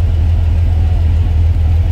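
A 1970 Volkswagen Karmann Ghia engine runs with a low, steady rumble close by, a throbbing idle-like tone with slight rises, no voices over it.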